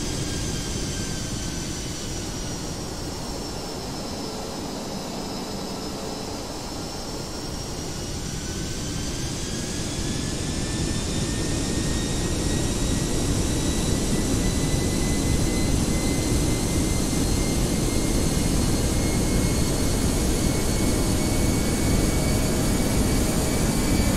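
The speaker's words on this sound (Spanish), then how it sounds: "Aceleraron los motores en el último viraje para mantener la altura y la velocidad." Airbus A320 jet engines in a flight simulator game spool up steadily, a broad roar with rising whine tones that swells after a quieter stretch and then holds loud and continuous until the end, with no talk.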